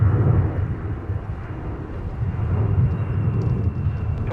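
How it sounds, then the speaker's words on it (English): A Sun Country jet departing from a windy Minneapolis–St. Paul airport as flight 395 to San Francisco, a steady low engine roar blended with gusting wind rumble, no talk. "So this is the Sun Country departure that I was referring to, and they're headed out to San Francisco, flight 395."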